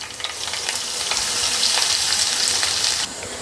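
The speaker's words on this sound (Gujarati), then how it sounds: "તેલ ગરમ થતાં અડધી ચમચી રાઈ જીરું ઉમેરશું અને એની સાથે જ 8 થી 10 કળી લસણ અધકચરી ક્રશ કરીને લીધેલી છે એ ઉમેરી દેશું" Mustard seeds, cumin and crushed garlic crackle in hot oil for a Kathiawadi vegetable dish, a loud, steady, close sizzle with scattered popping bursts that eases off slightly near the end, with no voices.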